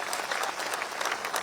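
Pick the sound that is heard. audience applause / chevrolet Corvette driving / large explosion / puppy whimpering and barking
audience applause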